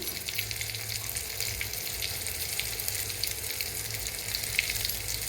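A steady crackling sizzle of a hot oil tempering for kadhi in a pan, constant and moderately loud, with no talking.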